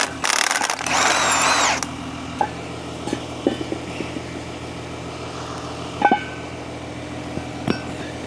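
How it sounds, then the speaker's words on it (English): An impact or air tool drives bolts off a Caterpillar 315L excavator in a single loud, close burst of about a second and a half, then sparse metallic clinks and taps follow against a quiet background. "we'll blast these bolts off"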